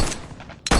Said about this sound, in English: His charge was met with a hail of gunfire, and it was returned in kind